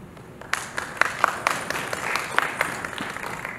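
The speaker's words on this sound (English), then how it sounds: "Ladies and gentlemen, a huge round of applause" Audience applause at the 2016 Asia's Most Trusted Brand Awards ceremony: a dense, steady wash of many hands clapping at moderate loudness, with sharper individual claps popping out throughout.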